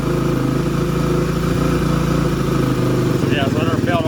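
A motorcycle engine runs loud and close after a kickstart with the choke on, a steady rough mid-pitched drone that shifts slightly near the end as a voice talks over it.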